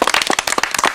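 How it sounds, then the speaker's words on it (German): Audience applause breaks out at a German club-style prize event in Saarland, dense and close, with rapid clapping packed throughout the second. "Applaus, Applaus."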